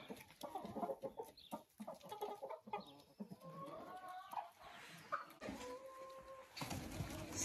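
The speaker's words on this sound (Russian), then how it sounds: "Все, старые куры все вышли." Old hens cluck and squawk repeatedly from a farmyard enclosure as they file out through a gate into another pen, a busy, close-up chorus of overlapping calls with no talking.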